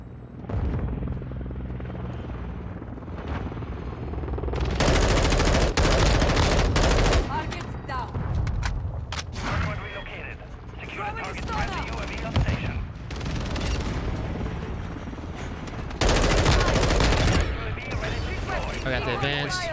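Bursts of automatic gunfire and heavy booms from a Modern Warfare 2 firefight, loud and close, with rattling fusillades, a helicopter-like rumble and radio voices talking between the volleys.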